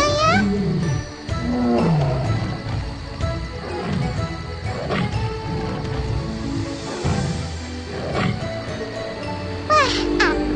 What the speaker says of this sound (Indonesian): banyak harimau-nya ya.